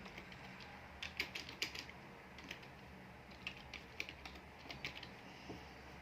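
Soft, quick keystrokes on a computer keyboard come in short bursts, faint and close, against a quiet room hum as a place name is typed into a digital map.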